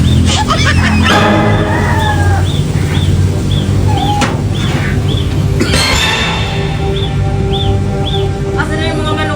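Chickens cluck and chirp in short, repeated high calls over a steady background hum, while a person talks throughout.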